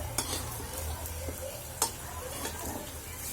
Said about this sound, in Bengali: I am cooking.